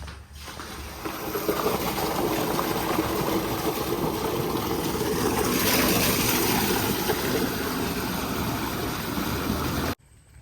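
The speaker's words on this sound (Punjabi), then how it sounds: "1 ਮਿੰਟ ਹੋਇਆ ਹਲੇ ਮੋਟਰ ਚਲਾਈ ਨੂੰ ਪਾਣੀ ਦੇਖੋ ਕਿਹੜੇ ਹਿਸਾਬ ਨਾਲ ਭੱਜਿਆ ਜਾ ਰਿਹਾ" An electric water pump motor forces water through a field irrigation pipeline, a loud, steady gushing rush with a low motor hum running for about ten seconds before cutting off abruptly.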